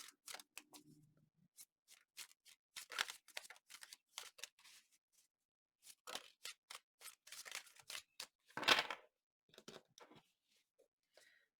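Tarot cards shuffled by hand in repeated bursts of crisp riffling and slapping, with short pauses between; close and fairly quiet, no talking.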